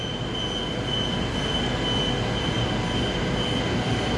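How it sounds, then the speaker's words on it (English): Electric multiple unit trains sit at a platform of Joondalup station heading to Clarkson, producing a loud, steady rumble with a sustained high-pitched wheel squeal and faint rail clatter, with no voices. "We have EMUs 123 and 103 on platform number 2, heading to Clarkson."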